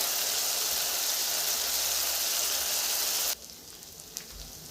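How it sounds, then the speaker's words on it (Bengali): Chopped tomato and raw ginger sizzle in melted butter in a pan, with a loud, steady frying hiss that cuts off abruptly and leaves only a faint, quiet background. "শুধু বাটারে রান্না করছি। এটাও 1 মিনিট কষিয়ে নিই।"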